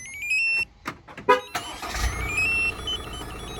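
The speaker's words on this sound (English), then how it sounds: "We can also start the vehicle off this pager." A Ford Transit Mk8 facelift van starts remotely from its alarm pager: a few short electronic beeps, a brief crank, then the engine catching and settling into a steady idle nearby.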